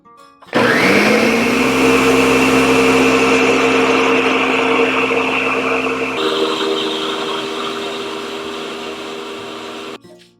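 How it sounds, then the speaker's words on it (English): An electric blender whirs loudly up to speed, chopping boiled pandan leaves in hot liquid; a steady high motor whine holds for about nine seconds, shifts pitch partway through, then cuts off. "remove it from the pan and add it to a blender"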